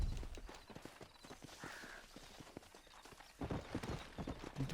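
A horse gallops in Red Dead Redemption 2, its rapid hoofbeats clip-clopping in a steady rhythm, fairly faint, picking up louder near the end.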